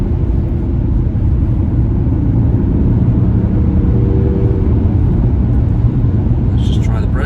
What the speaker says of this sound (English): It doesn't sound bad, to be fair,